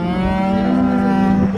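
A cow at a livestock market lets out one long, loud, steady moo close by, filling the whole moment with no talk over it.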